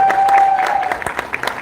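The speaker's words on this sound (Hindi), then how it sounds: "एक बार जोरदार तालियां हो जाएं." Brief, loud clapping from a small audience at a film press meet, scattered individual claps over a faint tonal hum, ending abruptly after less than two seconds.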